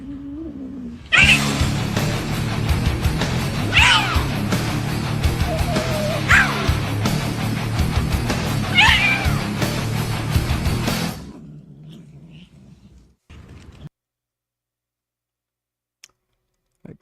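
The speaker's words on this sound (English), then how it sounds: "That cat very aggressively wants food." A hungry cat meows aggressively and repeatedly in loud, drawn-out yowls over a busy background of clicking and noise, which cuts off abruptly after about eleven seconds and leaves near-silence with a few faint ticks.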